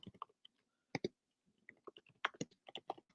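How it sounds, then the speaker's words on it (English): Computer keyboard keys clack in quick irregular bursts of crisp taps with short pauses between runs, close and fairly quiet with no other sounds. "Sorry, I'm typing."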